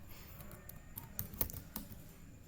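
Keys clack on a computer keyboard in a brief burst of several close, crisp taps with uneven spacing, set against a faint room hum and free of talk.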